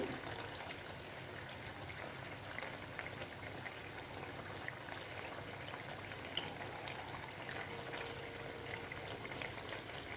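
Koi fish tel jhal curry gravy bubbles in a pan over raised heat as it reduces, a steady close simmer of fizzing and popping with no voices throughout.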